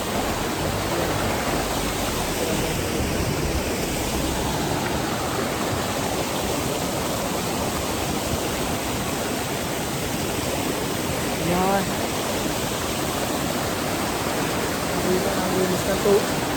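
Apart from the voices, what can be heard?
waterfall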